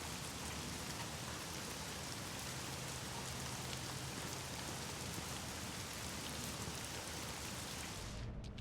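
Steady, dense rain pours down in The Medium game, a constant even hiss of drops on surfaces that holds throughout before cutting off abruptly at the very end, with no voices.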